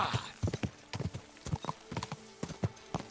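Horse hooves galloping in Kingdom Come: Deliverance 2, a close, quick and steady clip-clop rhythm of repeated hoofbeats running throughout, with no speech over it.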